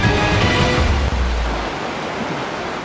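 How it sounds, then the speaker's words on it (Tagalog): Heavy rain pours while floodwater carrying mud and rocks rushes down a road in Maco, Davao, a dense, steady roar that fades slightly toward the end, with no voices. "Sa gitna ng malakas na buhos ng ulan, rumagasa ang baha na may kasamang putik at mga bato sa kalsadang ito"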